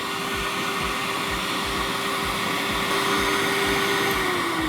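The vacuum of a vinyl record cleaning machine drones loud and steady with a constant whine, a faint rhythmic thump repeating underneath as the record rotates.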